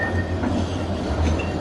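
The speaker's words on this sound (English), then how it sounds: "Oh look, tram coming." Tram rolling past in Fleetwood, a steady low rumble of wheels on rail with faint squeals, continuous and fairly close, no talking.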